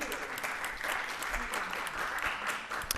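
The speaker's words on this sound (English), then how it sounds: "Please give them a round of applause." An audience at a Flower Mound town council and county commissioner candidate forum applauds steadily for the candidates, a dense, even clapping that fills the room for the full stretch without a break.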